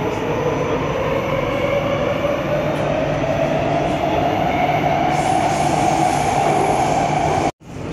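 A Warsaw metro line M1 train running between stations, with a loud, steady rumble and roar of wheels and carriages throughout, briefly dipping near the end.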